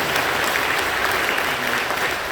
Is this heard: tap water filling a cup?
no